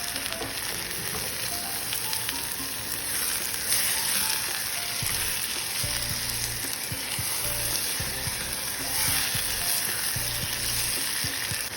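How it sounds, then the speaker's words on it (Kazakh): Chopped tomatoes sizzle steadily in a hot pan, with occasional stirring scrapes and clatter throughout. "Оның үстіне майдалап туралған 2-3 помидорды салып жақсылап қуырамыз."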